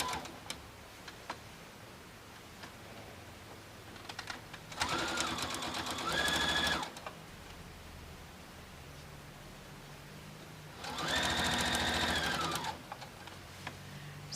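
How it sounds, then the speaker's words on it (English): Two separate runs of a sewing machine stitching bias binding onto a zig-zag quilt edge, each a couple of seconds of close, steady whirring with quiet handling ticks and room hiss in between. "So I'm sewing along this long straight side until I get to this corner"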